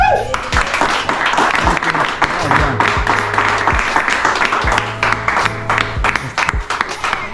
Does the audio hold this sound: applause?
yes